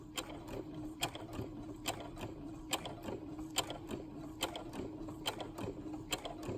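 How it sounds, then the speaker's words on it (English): A home sewing machine runs a quarter-inch seam along the edge of T-shirt blanket fabric, a steady quiet mechanical whir with rapid regular needle clicks throughout, heard alone. "I sew all the way down the edge using the edge of my presser foot as my guide"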